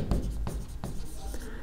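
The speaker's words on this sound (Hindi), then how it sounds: "तो मैं लिख रहा हूं" Marker or chalk strokes on a board during an environmental engineering lecture, a few short scratchy bursts close by over low room hum, with a faint voice in the background.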